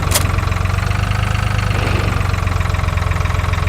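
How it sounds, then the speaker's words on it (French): A tractor engine in the video game Farming Simulator 2013 idles with a steady, loud, droning mechanical hum and a constant low throb, heard alone without talk. "c'est pas super maniable ce tracteur là"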